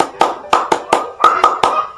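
A teacher claps out a rhythmic hand-clap pattern, eight sharp claps in uneven groups, close and clear with no talking.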